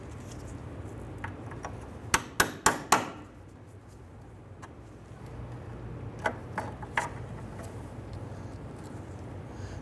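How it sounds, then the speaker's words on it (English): Metal punch struck by a hammer to drive leftover cotter pin pieces out of an outer tie rod end on a 1994-2004 Ford Mustang: four sharp close taps in a quick burst, then a few lighter strikes later over a low garage hum. "you can use a small punch to go ahead and work the remainder pieces of the cotter pin out through the back side"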